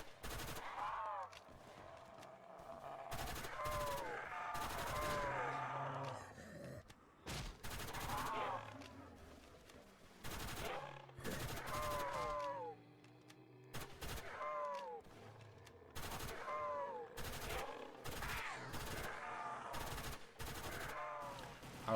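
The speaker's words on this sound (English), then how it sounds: "Now let's watch the gun in action." Submachine gun fire in the Roblox zombie game Project Lazarus, repeated rapid bursts separated by short pauses, loud and close, with creature groans between volleys.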